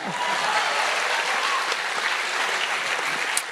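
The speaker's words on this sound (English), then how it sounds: "Do I get a clap for that?" An audience at the Ideas of India stage event applauds a singer, a broad, steady round of many hands clapping that fills the hall evenly throughout.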